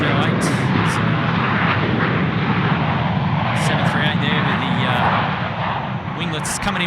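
A Boeing 737-800 airliner at Sydney Airport fills the scene with loud, continuous engine roar, broad and steady from start to finish.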